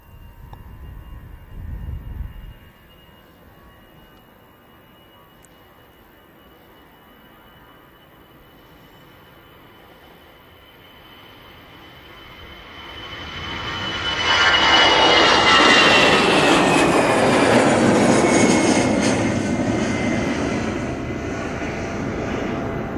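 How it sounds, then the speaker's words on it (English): A Lufthansa Airbus A319 takes off at Manchester Airport: a faint distant whine first, then engine roar building from far off to a loud, broad peak as the jet passes close, easing slightly at the end. "This A319 for Lufthansa."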